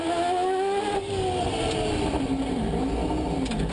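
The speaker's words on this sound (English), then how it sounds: "God, hear the throttle on that?" A loud Mazda 787B race car engine revs hard onboard at Le Mans, its pitch sweeping up and down in sustained throttle bursts, close and continuous.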